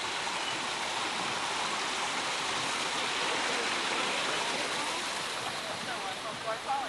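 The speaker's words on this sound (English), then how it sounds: "What's the water doing, Chris?" Water flows in a stream with a continuous, moderately loud rushing wash, steady and close throughout.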